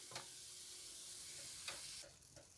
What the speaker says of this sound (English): You've got to toast this by stirring constantly for 15 minutes to an hour.